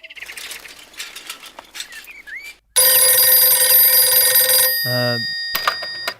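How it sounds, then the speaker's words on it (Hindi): A telephone rings loudly with a steady electronic tone for about two seconds, preceded by faint chirping sounds and followed by a brief lower warble. "कार्तिक फोन।"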